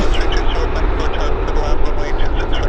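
WestJet airliner, flight 1798, at Vancouver airport: a loud, steady broadband jet roar close by, with a constant rumble and hiss throughout and no talk.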